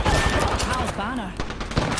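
Enemy gunfire in a video game crackles in rapid, overlapping bursts close by, dense and loud across two seconds, with a voice speaking briefly in the middle.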